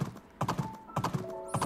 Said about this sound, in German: Pferdchen. Ich bring dich mal in den Stall.